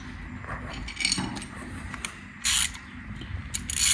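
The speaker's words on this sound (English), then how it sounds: "you can undo the whole oil filter" Ratchet fitted with a 32mm hex socket undoing the oil filter housing on a BMW X1 F48 2.0 diesel, giving short clicking bursts of pawl ticks, close and fairly loud.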